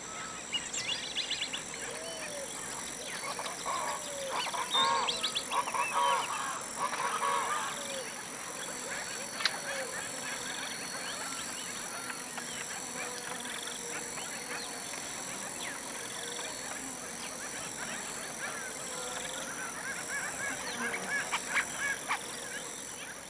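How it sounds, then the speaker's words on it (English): A flock of ducks calls in the wild during the dry season, with honking, overlapping calls rising and falling against a steady outdoor background, most dense early on and again near the end. "At this time, large flocks of birds like these ducks can be seen."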